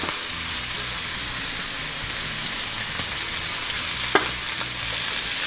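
Beef caramelizes in hot oil in a pan, a dense, even, close crackling sizzle that holds steady throughout, broken only by a single sharp pop.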